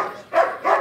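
A dog barks twice in quick succession, close and clear, with short sharp yelps and nothing else around them.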